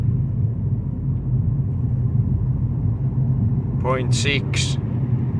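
Car with a Multijet diesel engine pulling hard in 5th gear from low revs, a steady loud low rumble throughout with a brief spoken phrase near the end.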